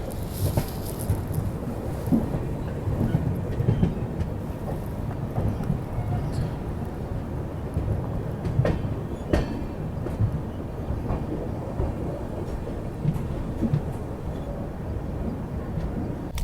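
Steady low rumble and rattle of the Mumbai Indore Duronto Express running on the line near Nagda junction, a continuous broadband roar with faint clicks, carrying on unbroken throughout with no talk.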